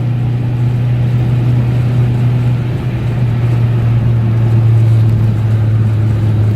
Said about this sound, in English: Into third gear. Full gas now.